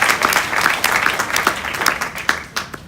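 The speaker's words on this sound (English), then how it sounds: "So give yourselves a round of applause for believing in us." A live audience claps together in a steady, dense round of applause, sharp hand claps close and distinct over a continuous wash of crowd noise, fading slightly toward the end.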